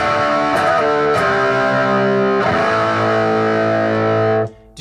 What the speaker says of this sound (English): Did you notice when I turned the gain knob up, it responded like an actual tube amp?